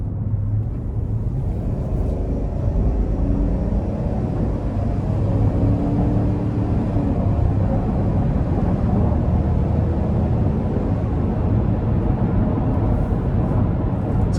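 A 2025 Chevy Tahoe LT pulls away on light throttle, its engine and road noise making a steady low rumble that holds at an even level throughout, with no talking.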